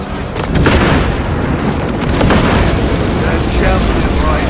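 A frag grenade detonates in Warhammer 40,000: Space Marine 2, a loud booming blast that rolls into sustained battle noise and dense gunfire, with voices mixed into the din throughout.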